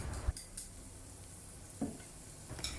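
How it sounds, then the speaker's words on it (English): White scallion pieces sautéing in hot oil in a wok for Chinese tomato eggs, a soft steady sizzle with a few clacks of a utensil stirring, close and alone. "Saute the white section of the scallion with some oil."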